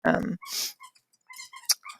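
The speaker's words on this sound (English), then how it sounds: "Oh, dogs." Dogs growl and huff in a few short, rough bursts at close range. The sounds are separated by brief pauses, with one sharper yelp-like burst near the end.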